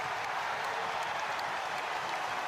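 A rugby crowd at a Scarlets v Leinster match roars and applauds in a dense, steady wash of cheering that holds at full level with no break.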